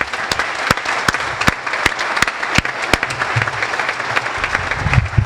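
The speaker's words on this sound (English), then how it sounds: "I'd like to give a round of applause to our professors and faculty" An audience applauds professors and faculty at a university event, sustained crowd clapping with several sharp, loud individual claps standing out near the microphone.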